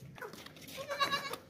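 Goat with her young kid bleating faintly, a couple of short quavering calls near the middle of a quiet outdoor scene, no speech.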